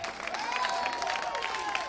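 Audience applauding at a political speech about Gabon, a steady patter of clapping from a crowd, moderately faint and continuous, with faint voices mixed in.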